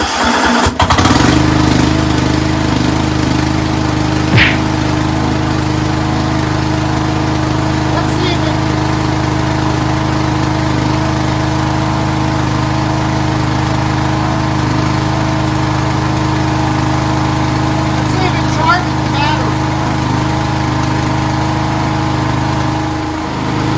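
The engine of a Craftsman 13.5HP 30-inch riding mower with a bagger system runs steadily and loudly for the whole stretch, a constant close drone with no pauses.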